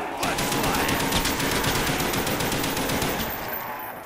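Rapid automatic gunfire rattles nonstop and loud in a zombie survival video game, a dense burst of shots filling the whole stretch before tapering slightly at the end.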